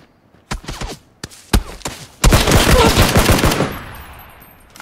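Gunfire in a first-person shooter game: several separate sharp shots ring out, then a dense, loud automatic burst rattles for over a second before a short echoing tail, with no talking.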